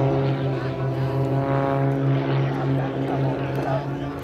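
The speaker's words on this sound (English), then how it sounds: "Look at those aircraft just corkscrewed into that gorgeous sky" Aerobatic display planes of the Firebirds Xtreme team fly at the Battle Creek Field of Flight air show, a continuous loud propeller engine drone holding steady, with a commentator talking over it.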